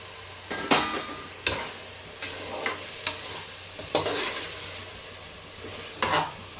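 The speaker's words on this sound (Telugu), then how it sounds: "టమాటో, పచ్చిమిర్చి అలా కొత్తిమీర, కరివేపాకు వేసి బాగా కలిపెట్టుకుందాము" Tomato, green chili, coriander and curry leaves stirred into dal frying in a pot, a ladle scraping and knocking against the metal in irregular strokes over a continuous low sizzle, close by, no talking.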